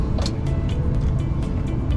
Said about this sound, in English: There is a good 50 trucks waiting to get into this place